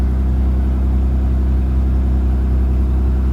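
A BMW car engine idles steadily nearby, a low, even rumble with no revving and no voices.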